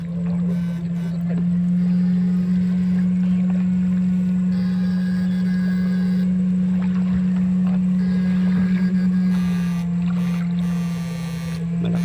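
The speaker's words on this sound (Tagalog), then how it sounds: "Naririnig nyo, parang 4DR5 yung makina. Sobrang lakas." A loud boat engine drones steadily and close for the whole stretch, a constant low hum with slight fluctuations and splashing water noise over it.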